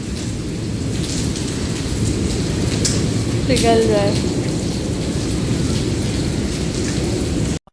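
Heavy rain pours down steadily in a loud, dense wash, with thunder rumbling through it; a brief voice speaks partway through.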